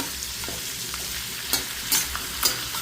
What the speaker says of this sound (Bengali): দেখতেই পাচ্ছ আমার কাতলা মাছের মাথাটা ভাজা হয়ে গেছে।